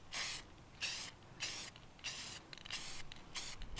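Red spray paint hisses from an aerosol can onto the back of a kitchenette in a Toyota Yaris car camping build, in about seven short bursts, close and fairly loud, with no talking.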